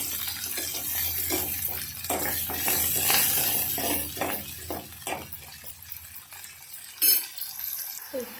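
Onions fry in a pan while being stirred for a green pea curry, with scraping and clinking spoon strokes over a soft sizzle, closely miked and fairly quiet.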